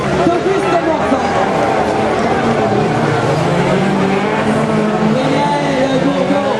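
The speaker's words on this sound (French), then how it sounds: "Michael Gourdon, le pilote de la Atlantique, qui se bat pour rester juste devant la BMW" Autocross touring cars, an Alpine and a BMW, racing hard in a cup final, their engines roaring loud and continuous with pitch swings as they battle, under excited French commentary.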